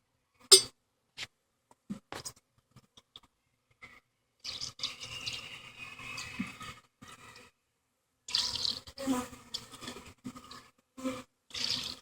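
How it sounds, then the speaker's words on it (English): Sugar water being scooped and poured between sides of a beehive feeder, giving intermittent splashing and trickling bursts separated by quiet gaps. "I'm going to try to take some of this sugar water out of this side and put it in the other side"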